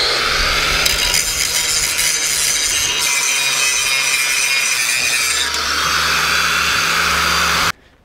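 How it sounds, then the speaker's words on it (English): An angle grinder working on a Caterpillar D4 bulldozer's Hyster winch during a rebuild: a loud, continuous abrasive whine and rasp for about seven and a half seconds, then cutting off abruptly, close up and without speech. "time for a lot of grinding"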